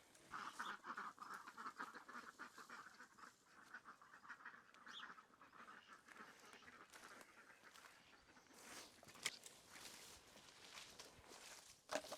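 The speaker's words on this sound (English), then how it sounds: "So here we have the ducks enclosure that's just on the side of the garden." Ducks quack in a netted enclosure beside a garden, soft and fairly distant, mixed with shuffling footsteps and rustling.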